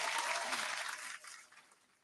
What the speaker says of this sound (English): Here, I'm gonna give you a round of applause for that one.